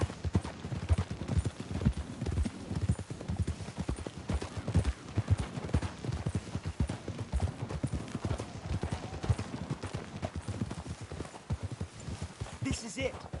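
Horse hooves clop in Red Dead Redemption 2, a steady rhythmic trot at moderate distance that continues under dialogue, with a brief horse snort or whinny near the end.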